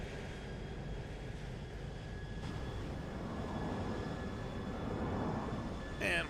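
A Pilatus PC-12 NGX in a flight simulator rolls out after landing, its engine and runway rumble a steady, broad drone that grows slightly louder toward the end, with no talk over it.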